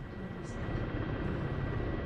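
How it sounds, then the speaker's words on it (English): A helicopter in the DCS World flight simulator flies in circles on its own with no pilot input, giving a steady, even rotor and engine drone that holds close and constant throughout. "you'll see this helicopter's now just going round in circles by itself"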